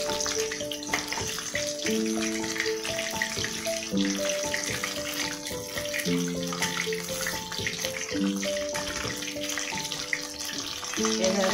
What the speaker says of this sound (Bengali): এইভাবে ভেজে ভেজে তুলে ফেলছে